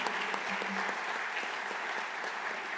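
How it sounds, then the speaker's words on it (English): An audience at a fall conference claps steadily in sustained applause, dense and even throughout, heard on its own without talk. "One more huge round of applause for all of you who've done this for us."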